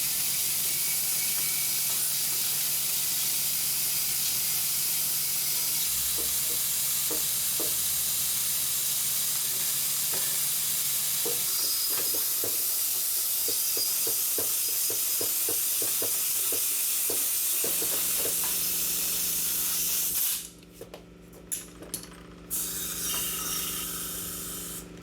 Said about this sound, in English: I'm done spraying the diesel particulate filter cleaner inside the DPF